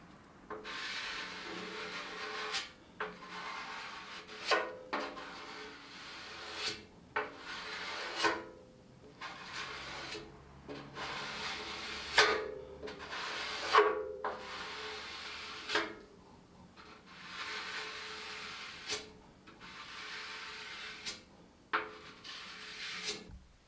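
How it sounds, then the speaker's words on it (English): Someone sands a BMW 1150GS motorcycle fuel tank by hand in long, repeated rasping strokes with short pauses between them. The scraping is close, fairly quiet and has no talk. "The tank is doing very well, but it takes a lot of sanding."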